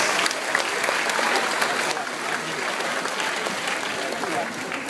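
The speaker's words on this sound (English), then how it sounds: "How about a round of applause for our fabulous volunteers?" A large audience at a SeaWorld dolphin show claps for volunteers, loud and sustained applause with scattered sharp claps near the front, easing slightly after the first couple of seconds.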